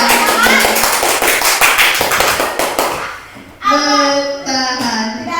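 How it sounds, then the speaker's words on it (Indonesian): A room of teachers claps for a colleague in a quick burst of sharp, closely spaced hand claps, with young-sounding voices chattering over them, before a voice takes over and the clapping stops. "Tepuk tangan untuk Bu Yulia"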